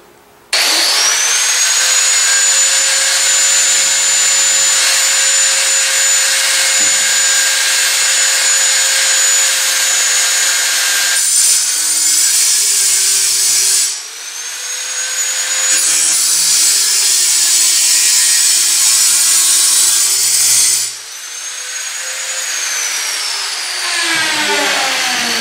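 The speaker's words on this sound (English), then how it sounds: "a diamond grinder wheel, and these diamonds will cut right straight through it" Loud, sustained high-pitched whine and grinding rasp of a diamond grinder wheel cutting through a knife blade, running nearly continuously with brief dips as pressure eases before resuming.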